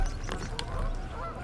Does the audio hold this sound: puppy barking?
no